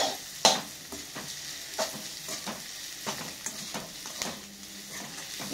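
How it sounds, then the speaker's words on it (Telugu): Egg frying in a pan for an egg Maggi breakfast, a steady soft sizzle with scattered clicks and scrapes of stirring, close and alone. "గుడ్డు ఫ్రై అయితేనే మంచిగా ఉంటుంది, లేకపోతే నీసు వాసన వస్తుంది"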